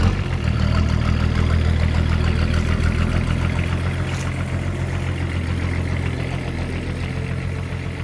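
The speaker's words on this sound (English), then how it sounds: "let us take a moment to appreciate that sweet M21 tractor noise" A heavy M21 tractor engine idles steadily up close, a deep continuous rumble with a rough mechanical chatter and no change in pace.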